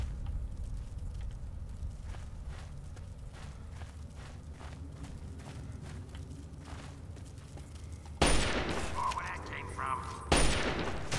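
Gunfire in Fallout 3 on Xbox Series S: two sharp, loud bursts break through a quiet, steady game backdrop near the end, each a dense blast fading quickly.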